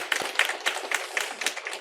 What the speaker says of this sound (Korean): 앞으로 더 우리 교회에서 잘 정착할 수 있도록 박수로 격려하겠습니다.